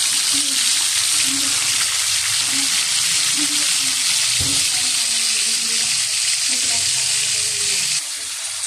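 A large maya-maya (red snapper) fries in hot oil, giving a loud, continuous sizzle and crackle with occasional pops and stirring clatter throughout.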